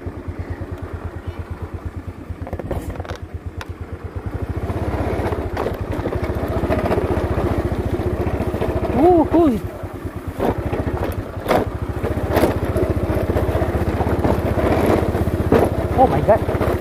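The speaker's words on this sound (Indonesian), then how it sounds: "Kandas mesin Honda." Honda motorcycle engine straining on a narrow bushy footpath under cloudy skies, a steady loud rumble that rises and drops in revs for the whole stretch, with people talking over it.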